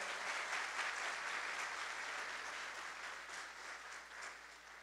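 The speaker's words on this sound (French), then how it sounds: "Déjà des applaudissements pour ces deux établissements scolaires" Audience applause for two competing schools, Collège Catherine Flon and Collège St Louis de Gonzague, at a televised school contest in Haiti, a steady wash of many hands clapping that slowly fades over several seconds.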